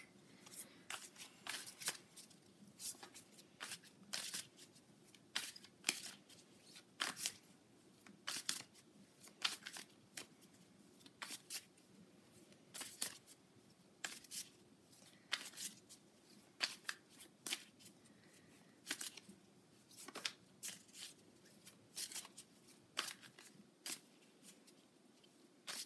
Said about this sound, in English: I am going to draw a card from my Moon deck